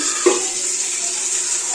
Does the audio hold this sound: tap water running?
yes